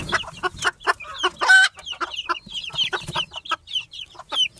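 A mother hen raising a mixed brood of Owl Polish and other chicks clucks close by, her low calls mixed with a busy stream of high chick peeps.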